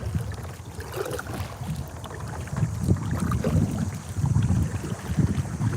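Strong gusty wind buffets the microphone out on the water while paddling a kayak in Connecticut, a continuous rough low rumble with small splashy bits mixed in.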